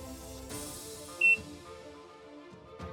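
Sunmi L2Ks handheld terminal scanner giving a single short, clear electronic beep as it reads a QR code, amid quiet handling noise.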